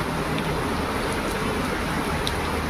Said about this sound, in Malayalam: നല്ല മഴ ഗൈസ്